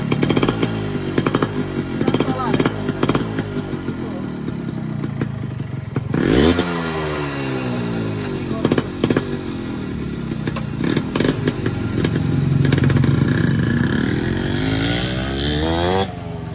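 A motorbike engine runs nearby with a rough, buzzing idle, rising in a sharp rev partway through and swelling again toward the end, with occasional clatter.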